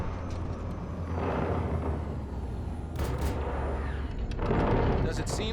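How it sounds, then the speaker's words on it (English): Homing missiles launched from a tank in Cyberpunk 2077 sound as heavy booming blasts over a constant rumbling engine bed, with a few bursts of sharper crackling hiss, while a voice talks over the din. "Homing missile."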